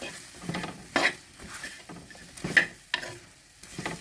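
Cut eggplant stirred into a frying curry base, a low sizzle broken by intermittent scrapes and sharp metallic clicks of a spoon against the pan, close and moderately loud, with no voices.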